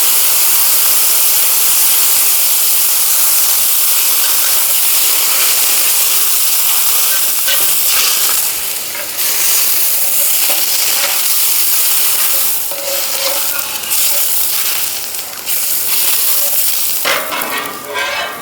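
Water poured onto lightly fried ingredients in a hot pan for jaggery rice, a loud, steady rushing hiss of steam and sizzle, with bursts of clatter and stirring near the end.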